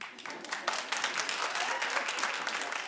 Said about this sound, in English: Okay, clap if you watched